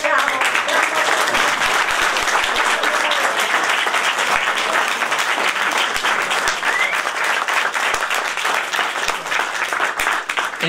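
Sustained applause from the audience at a joint town council meeting of Rotonda and Viggianello, dense steady clapping filling the room for about eleven seconds with a murmur of voices underneath.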